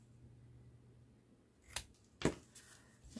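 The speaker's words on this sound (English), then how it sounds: "I'm just going to trim that off slightly." Scissors trimming a small book hinge, giving two or three crisp close snips in the quiet second half after a faint low hum.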